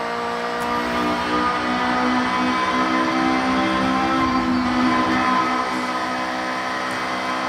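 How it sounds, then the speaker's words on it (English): A McLaren in Forza Horizon blasting along at speed, its engine a sustained, loud, steady droning roar that holds at high revs without letting up for the whole stretch, heard alone with no talk. "This is a nice bit of way to come blasting along in the McLaren."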